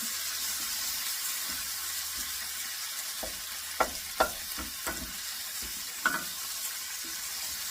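Garlic frying in a pan as a sauce base for creamy Tuscan salmon, a steady low sizzle with a few sharp stirring clicks and scrapes partway through, fairly close and unaccompanied by voices.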